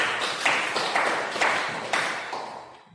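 Classmates clap for a presenting group in a school classroom: several short bursts of hand clapping spaced about half a second apart, each fading slightly, with the whole sequence gradually getting quieter.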